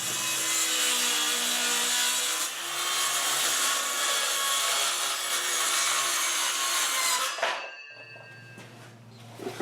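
Wood being cut for a chicken coop window, a steady rasping saw stroke sounding close and loud for several seconds before stopping abruptly, followed by a short low hum.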